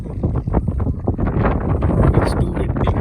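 Steady wind buffeting the microphone on a lake boat trip, a constant low roar with the boat's rumble underneath and no pauses.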